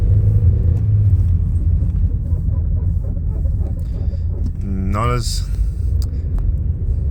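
A car being driven with no brake fluid rumbles steadily while it is given a little gas, its engine noise continuous and close, with a brief voice partway through.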